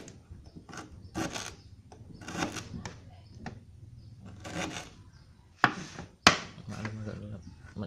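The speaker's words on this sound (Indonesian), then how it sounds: "Pertama-tama kita potong dulu jahe biar mudah di blender." A knife chops fresh ginger root in a home kitchen during a power cut, with irregular dull knocks and scraping strokes and a couple of sharp clacks on the board; a voice speaks faintly in the background.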